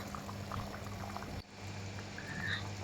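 Mutton curry with potato bubbling in a pot over a high gas flame, a steady close simmer with soft pops and gurgles, no voices.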